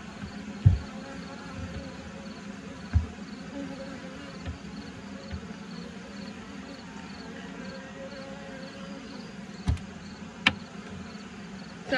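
Honeybees hum steadily inside an open top bar hive during an inspection, a constant low buzz with occasional knocks and clicks from handling.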